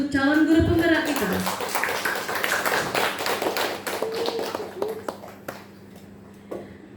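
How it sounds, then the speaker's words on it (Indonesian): An audience at an Indonesian teachers' positive-culture dissemination session claps for a prospective lead teacher, a few seconds of crisp, fairly dense applause that follows a voice and fades out into scattered claps. "Kita kasih aplaus yang sangat meriah untuk calon guru penggerak kita"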